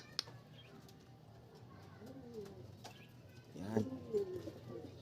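Pigeons coo softly at a racing pigeon loft as birds return, with faint wing flutters and low murmured talk under the quiet, close cooing.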